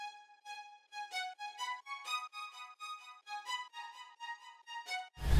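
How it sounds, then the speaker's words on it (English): A staccato violin with delay plucks a quiet run of short, bright notes, each trailed by faint echoes, in a steady rhythm, and ends in a sudden low burst. "so I decided to add a staccato violin with delay"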